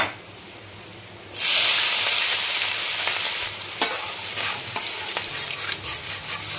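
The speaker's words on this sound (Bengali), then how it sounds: "পেঁয়াজটা একটু গোল্ডেন কালার করে ভাজবো।" Onions frying in a pan for a soybean kofta curry, with cumin and turmeric in the mix; a sudden loud sizzle bursts in after a quiet start, followed by steady hissing and the repeated scrape and clack of stirring.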